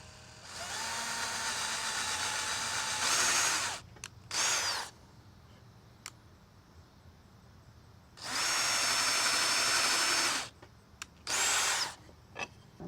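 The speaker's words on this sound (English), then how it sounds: "Okay, we have our 2 holes drilled." A power drill bores two holes through a painting board, whining in two long bursts with short trigger blips between and quiet pauses around them.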